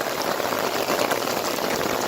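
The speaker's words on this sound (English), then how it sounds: "Do you hear that? That's rain." Heavy rain falls at the Magic Kingdom theme park as a dense, steady hiss of countless drops, loud and continuous throughout, with no talking.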